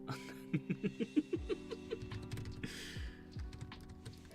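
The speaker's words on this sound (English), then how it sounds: "Witness my horrible typing." Quick, fairly faint typing on a computer keyboard during a live manga-drawing session: a run of evenly spaced clicks, then a few scattered taps, with faint background sounds.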